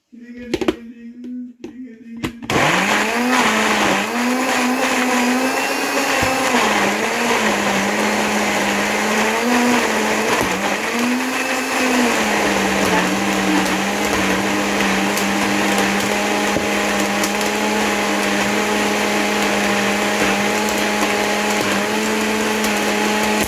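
Blender whirring steadily as it purees plums and berries into jam, starting abruptly after a brief quiet moment, then running loud and continuous with slight pitch dips as the load shifts.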